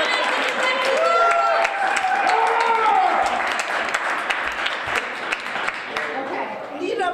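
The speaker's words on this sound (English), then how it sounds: "Please give her a round of applause." Applause from an audience welcoming a guest speaker at a college event, a broad sustained clapping with crowd noise, and voices heard through and above it as it gradually thins.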